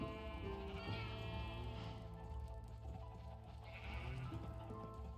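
Sheep bleat in Minecraft survival mode, with a couple of wavering, nasal calls rising over a dense bed of game music and ambient noise.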